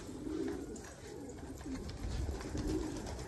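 Low, rolling coos from a pigeon on a rooftop continue for a few seconds, swelling slightly toward the end, with faint outdoor background and no voices.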